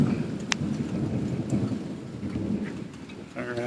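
Steady rainfall pattering on outdoor surfaces near a patio build site, with soft rumbles of thunder and a few sharp drips or cracks over the constant wash of rain, no voices.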